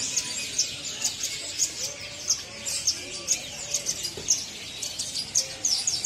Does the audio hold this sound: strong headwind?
no